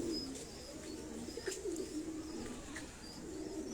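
A pigeon cooing close by in soft, low, repeated throaty phrases over faint background hiss, with no one speaking.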